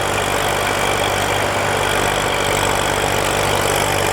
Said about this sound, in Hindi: ये देखो ट्रैक्टर चल रही है